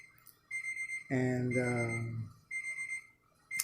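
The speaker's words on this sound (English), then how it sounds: "that's my daughter's alarm." A daughter's alarm clock beeps in a home in repeated bursts of a steady tone, with a voice speaking loudly over the middle of it.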